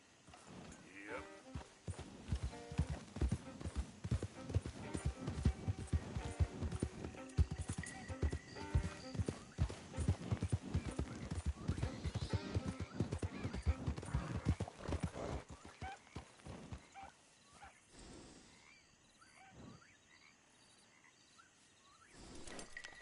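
A horse in the game Red Dead Redemption 2, its hooves clip-clopping in a quick, steady rhythm over faint crickets. The hoofbeats fade toward the end, a neigh is heard, and someone speaks briefly.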